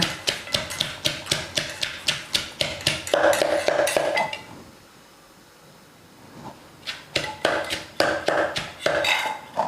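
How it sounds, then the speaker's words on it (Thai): Rapid rhythmic pounding of salt and shallots in a mortar and pestle, sharp thuds in a steady beat, pausing briefly midway before the pounding resumes. "เวลาตำก็เสียงจะดังนิดนึงนะคะ"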